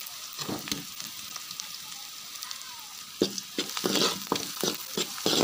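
Onions sautéing in a pan for a South Indian kootu, a soft sizzle under repeated scraping stirs, the spoon strokes growing more frequent and louder toward the end, with no talking.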